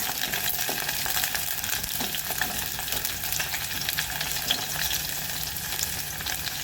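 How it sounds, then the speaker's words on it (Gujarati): Okra frying over low heat in hot oil, a steady dense sizzle and crackle running unbroken throughout, close and alone with no voices. "તેલ ગરમ થઈ ગયું છે। હવે આપણે ભીંડાને ફ્રાય કરી લઈશું। ધીમા તાપે ભીંડાને મસ્ત ફ્રાય થવા દેવાના।"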